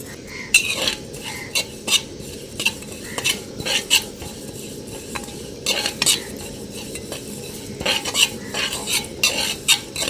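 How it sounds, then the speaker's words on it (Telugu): Coriander seeds, cumin and sesame seeds dry-roast in a pan, with a spoon scraping and stirring in repeated bursts and soft metallic clinks over a faint steady crackle, close and moderately quiet. "దోరగా వేయించుకుని మిక్సీ పట్టేసుకుందాము"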